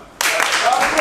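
Applause breaks out suddenly for a trophy winner at a football club presentation night, a dense burst of clapping that starts after a brief quiet moment.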